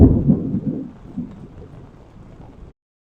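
Thunder from a storm in the Ouachita National Forest rolls as a deep, heavy rumble that starts strong, fades over about three seconds and then cuts to silence.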